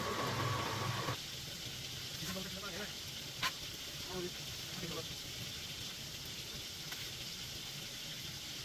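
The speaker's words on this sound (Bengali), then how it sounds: "প্রথমে রূপচাঁদা মাছটিকে ভালোভাবে ধুয়ে পরিষ্কার করে মশলা মাখিয়ে একে বেসনের কোটিংয়ে ফ্রাই করতে দেওয়া হলো।" Pomfret fish coated in gram flour batter frying in hot oil at a Cox's Bazar seafood stall, a soft, steady sizzle with faint background chatter and clatter.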